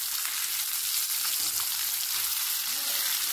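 Fish frying in very hot oil as it is turned over, a loud, steady hiss and crackle of sizzling that continues without a break.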